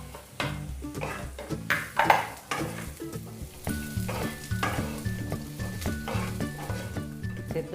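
Vegetables and chicken stir-fry over low heat in a pan for restaurant-style chicken fried rice, with a steady sizzle and rhythmic spatula scrapes and clinks against the metal, close and without talk.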